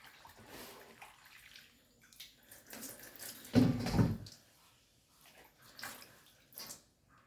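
Plain water is poured over pig intestines being washed, giving a brief gushing splash in the middle amid quieter intermittent trickles and handling noises.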